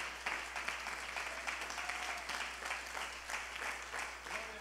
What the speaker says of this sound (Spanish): Denle un fuerte aplauso a nuestro Padre Dios.